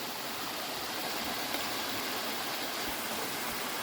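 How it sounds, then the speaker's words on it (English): Mountaineer Falls on the Appalachian Trail pours in a dense, constant roar of falling water, loud and close, with a steady broadband rush and no talk. "Here we are at Mountaineer Falls."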